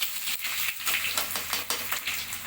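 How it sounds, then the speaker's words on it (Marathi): Garlic dropped into hot oil for a tempering sizzles and crackles steadily and close up, with occasional stirring scrapes, while onion salad is being made. "आपले तेल आता छान गरम झालेलं आहे. त्याच्यामध्ये हा आता आपण लसूण टाकून घेऊया."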